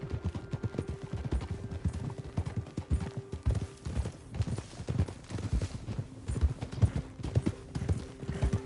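Horse hooves clip-clopping in Red Dead Redemption 2, a steady run of close, distinct hoofbeats over ground with a brief whinny-like tone mixed in.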